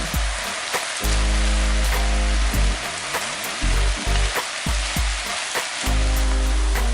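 Shimeji, white and enoki mushrooms with onion fry loudly in a pan, a dense, steady sizzle broken by short pauses and bursts, close and without voices.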